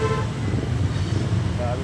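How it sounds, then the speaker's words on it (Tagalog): Dense morning street traffic in Kamarin, with a steady roar of engines and a car horn tooting early on, loud and close throughout. "Ayan na, traffic na."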